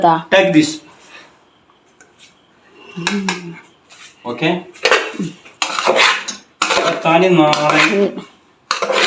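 Plates and cutlery clatter in bursts as food is served at a home Ramadan iftar, with sharp metallic clinks and scrapes, close and loud, mixed with people talking.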